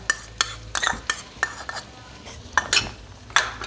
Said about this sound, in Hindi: अब यहाँ पर मेरे पास ये दही है, हाफ़ प्याली, 4 टेबलस्पून बनते हैं, ये मैं इसमें शामिल कर दूँ।